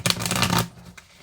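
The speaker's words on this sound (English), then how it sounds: "Just giving the announcements as I shuffle the cards." Tarot cards being shuffled by hand, a quick dense riffle of papery flutters and slaps that runs for about half a second and then trails off into a few soft card taps.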